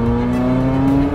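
A Ferrari F40 engine running loud and close, a sustained steady tonal drone with rich harmonics, briefly and without speech.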